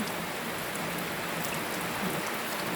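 Rain falls steadily on elephants outdoors, a dense, even hiss of drops on surfaces, close and unbroken with no voices.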